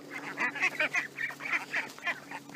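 A flock of herded ducks quacks in quick repeated bursts, several calls overlapping close by with a steady rhythmic chatter throughout.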